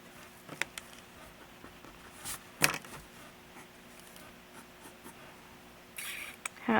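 A pencil sketching a tall lace-up manga boot on paper gives faint, close scratchy strokes with a few light taps and a brief rustle near the end, quiet throughout.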